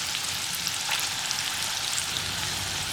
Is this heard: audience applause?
no